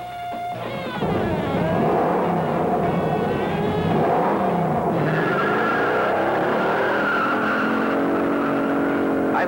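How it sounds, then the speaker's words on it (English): A car with a TorqueFlite automatic transmission launches hard from the line: a loud, sustained engine roar rises steadily in pitch through the gears, with squealing tires, heard up close with no talking. "What a getaway car."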